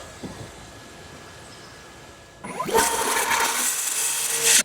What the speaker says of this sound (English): I stopped just short of the circular saw blade exiting the cut